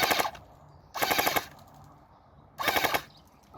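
An ICS airsoft gun fitted with a drum magazine fires three rapid full-auto bursts, each a crisp, buzzing string of shots lasting about half a second, heard up close with quiet gaps between.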